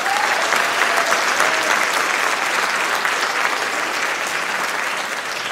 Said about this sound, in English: could we give one last round of applause to our seniors and college mates